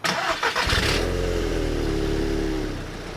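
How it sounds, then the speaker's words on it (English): A Volkswagen Golf GTI Mk6 Edition 35 engine cranks briefly, then catches and settles into a smooth, fairly quiet idle through the stock exhaust. "let's start it up and see what it hears like on stock exhausts."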